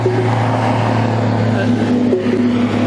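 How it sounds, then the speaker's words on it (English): A loaded potato truck rolls past on a rural road, its engine a steady low drone with tonal whine, fairly loud and close throughout. "There goes another potato truck down the road."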